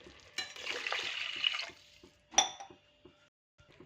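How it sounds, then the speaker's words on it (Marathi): Water pours into a coconut rice mixture in a pot as a short, close rushing stream, followed by a sharp clink and a few faint knocks and drips. "आता यामध्ये आपण पाणी ॲड करूया"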